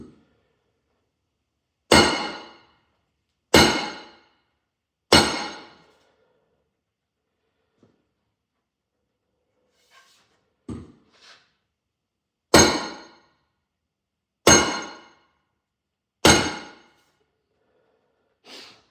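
A big wooden mallet drives wedges into an axe head during rehafting: six loud, ringing strikes in two groups of three, each decaying quickly, with faint handling noise in the quiet gap between.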